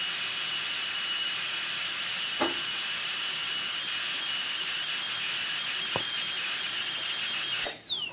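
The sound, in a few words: dental handpiece turbine spinning after Bio Lube oil flush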